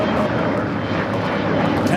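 Air China airliner taking off from runway 25 Right at Los Angeles International Airport, a steady loud broadband jet engine roar holding constant throughout with no pauses.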